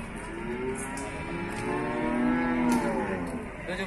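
Jabres cattle at a morning livestock market moo in a drawn-out low call that swells and fades, heard over a steady crowd and market background.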